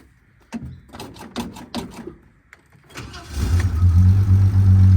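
Holden HZ ute engine being revved after sitting unused for about 20 years, with a bad-sounding running noise; a few sharp knocks and taps come first, then the motor roars up into a loud, steady, rumbling run close by.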